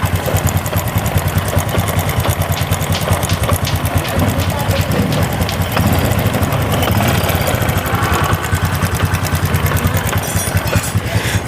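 Close, loud idle of a Honda Supra X125 motorcycle engine with a rough, continuous ticking knock running through the whole stretch, steady and unbroken.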